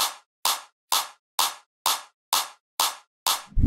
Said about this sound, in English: Now let's start the build up, add some claps.